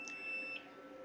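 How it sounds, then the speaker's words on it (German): A quail egg incubator with room for 80 eggs sounds its alarm: a few faint, high electronic beeps over a quiet hum. "Jetzt haben wir hier den Alarm, geht jetzt hier an."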